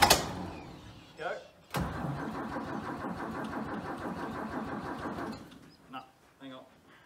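Old Holden VC Ute engine cranking then catching and running at a rough idle for several seconds before cutting out, close and loud, with brief voices before and after.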